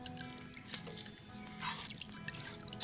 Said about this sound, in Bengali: চালটাকে ছেঁকে নিচ্ছি, পাত্রেতে রেখেছি কারণ মাটির পাত্রে যে জলটা থাকবে সে জলটা শুকিয়ে নেবে